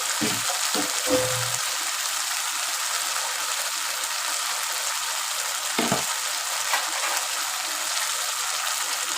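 Pointed gourd (potol) fries in a pan, giving a loud, steady hiss of oil with a few low stirring knocks near the start and once midway.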